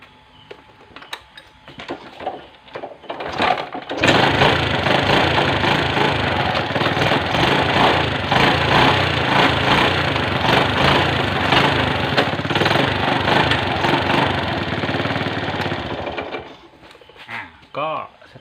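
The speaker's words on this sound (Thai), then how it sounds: "เดี๋ยวเรามาลองสตาร์ทเครื่องดูนะครับ" A Yamaha Spark Nano motorcycle engine is started after a gear repair, catching with a rough burst and then running at a loud, steady idle close by for several seconds before cutting off, with someone talking briefly before it starts.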